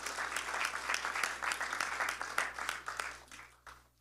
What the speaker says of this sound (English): So big round of applause for the volunteers.